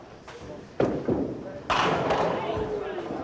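Duckpin bowling in a town hall lane: a ball thuds, then a few sharp crashes and clatters of pins fall, with a commentator's voice over them.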